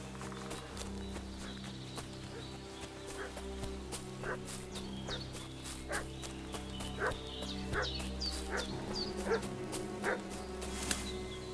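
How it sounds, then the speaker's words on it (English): A dog in the medieval village of Kingdom Come Deliverance II barks repeatedly in sharp, scattered yaps at moderate distance, over steady clip-clopping hooves and ambient farm sounds. "What's that dog making such a fuss about?"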